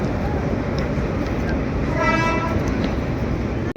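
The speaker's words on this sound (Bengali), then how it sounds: "ট্রেন যাচ্ছে" A heavy, continuous low rumble of a train rolling past nearby over the Bally Bridge at Dakshineswar, with a brief horn-like toot in the middle.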